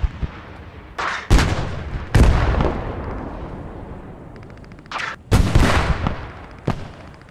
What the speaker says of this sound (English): the AT cannon is now shooting him